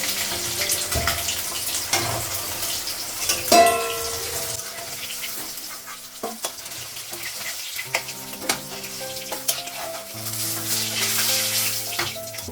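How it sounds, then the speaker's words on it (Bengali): Rohu fish frying in a pan on a gas stove, a steady sizzle with stirring clinks and scrapes, running water and brief utensil knocks throughout. "মাছটা ভাজা হয়ে গেছে, বের করবো, গ্যাসটা কমানো"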